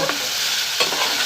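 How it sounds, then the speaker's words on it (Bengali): Kharkol leaf paste fries in a pan with a steady broadband sizzle and scraping stir strokes, loud and close, with no voices. "এটাকে এবার আমি এখানে ভালো করে ভাজবো"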